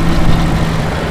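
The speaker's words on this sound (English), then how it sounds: "the only noise you hear is the lifters" A Jeep Grand Cherokee ZJ with the 5.2L V8 idles steadily and loudly up close, a low even rumble with a faint ticking of lifters running through it.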